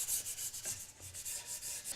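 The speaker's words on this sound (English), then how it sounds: "sand the surface. And that's perfect. I got a little bit of dust coming off" Sanding by hand across a stained wooden base to remove some dye, soft rhythmic rubbing strokes, close but quiet, roughly eight even passes with no voices.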